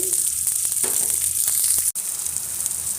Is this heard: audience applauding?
no